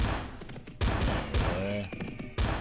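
Gunfire in the Guns & Spurs video game: several loud, sharp shots spaced irregularly, each with a short echoing tail, and a brief tonal ring between them.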